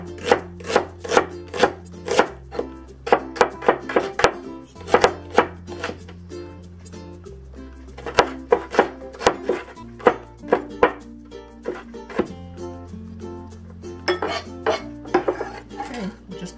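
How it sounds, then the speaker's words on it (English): A knife mincing shallot on a board, rapid sharp chopping taps in quick bursts with brief pauses between runs, close and loud, accompanied by occasional clinks. "Then we'll also mince the shallot."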